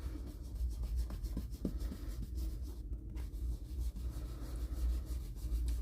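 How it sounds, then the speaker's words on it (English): A blending brush rubbed in steady circles over a paper stencil makes a soft, dry, rhythmic scrubbing that repeats evenly and stays close and quiet throughout. "I'm just going to keep going in a circular motion, and I'm focusing a lot in the middle"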